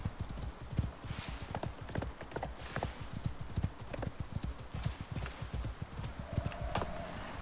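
Rapid, steady clip-clop of horse hooves trotting close up in the video game Icarus, an even rhythmic clatter with a faint whinny near the end.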